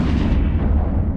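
Heavy booming weapon fire from ships during a fleet battle in the space game EVE Online, a loud continuous low rumble of overlapping blasts with no voices.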